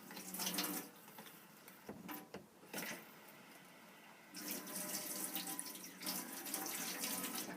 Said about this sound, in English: Water coming through, just make sure it's all working for you.